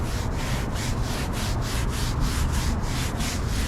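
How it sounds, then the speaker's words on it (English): Stiff brush scrubbed steadily over a rub-bricked concrete curb, a continuous gritty rasp with regular strokes about every quarter second, close and alone. "Try to clean it up with the brush again."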